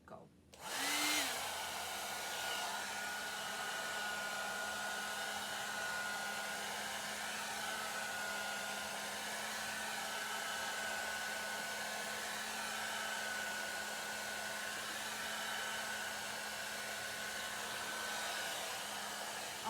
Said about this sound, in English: I'm gonna just blow dry that part